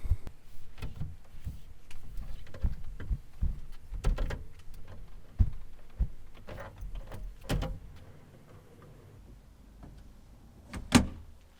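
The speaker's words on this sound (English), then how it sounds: "So let's put the drawers in." Repeated knocks, clicks and sliding scrapes as ARB drawers are pushed into place during installation, irregular and close, ending with one sharper thud after a quieter stretch.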